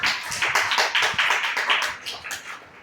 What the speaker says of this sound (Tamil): நல்லா கைத்தட்டி அவனுக்கு நன்றி சொல்றேன்